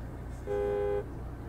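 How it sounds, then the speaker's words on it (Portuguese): A car horn in GTA San Andreas gives one short, steady toot of about half a second over a low engine rumble. "É pra mostrar que tem buzina nessa missão."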